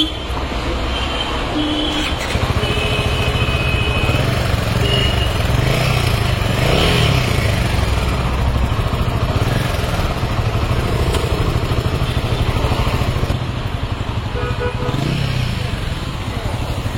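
A Royal Enfield Himalayan 450 motorcycle on a test ride gives a steady engine drone that runs close and loud almost throughout, with surges of revving and traffic noise around it.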